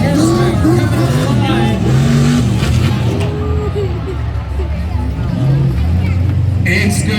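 A high-horsepower tuff truck tearing around a dirt track at a night race, its engine roaring loudly and continuously with rising and falling revs, mixed with crowd noise and an announcer talking over it.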